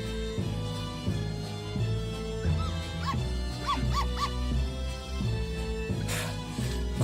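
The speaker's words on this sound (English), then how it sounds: "Did I just hear somebody bark?" A dog in a dungeon-diving game gives a short series of yelping barks midway, set against steady background music.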